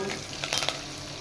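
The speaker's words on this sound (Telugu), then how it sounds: "పప్పు అయితే తాలింపు పెట్టేస్తున్నానండి" Hot oil tempering for tamarind leaf dal (chinta chiguru pappu) sizzles briefly, a short crackling burst with a couple of sharper pops, close and fairly loud, with no talking.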